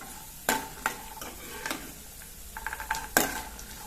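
Chana dal fries in a pan for millet upma, a soft sizzle under several sharp spatula knocks and scrapes against metal, spaced irregularly and close at hand.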